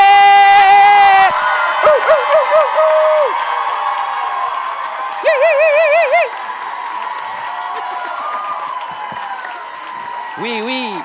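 A live concert crowd in Montréal cheers and applauds, with loud clapping under repeated high whoops and shouted cheers that surge in bursts across the stretch.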